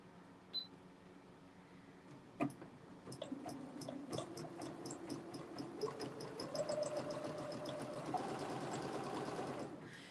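Sewing machine stitching a loose zigzag while quilting triangles, a steady fast mechanical whir and rattle starting after a couple of faint clicks, running continuously at close range.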